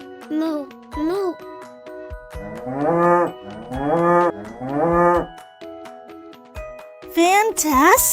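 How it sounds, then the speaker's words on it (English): Cattle mooing in a children's animal lesson: several drawn-out, rising and falling moos in a row over a soft musical backing, with a voice heard near the end. "what sound does a cow make? That's right! Moo, moo!"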